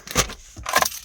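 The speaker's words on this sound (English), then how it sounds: "car keys," Two short bursts of car keys jangling close by, a bright metallic rattle with a brief pause between.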